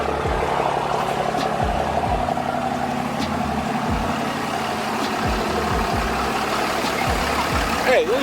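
Modified diesel truck engine idling: a steady, loud low rumble with a rhythmic pulsing throb, close by and continuous throughout, with a voice briefly heard near the end.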